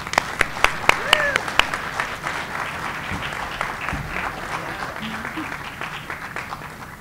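A round of applause at a university faculty awards celebration for student researchers, opening with a few sharp claps and swelling into steady clapping from a modest crowd, with murmured voices underneath.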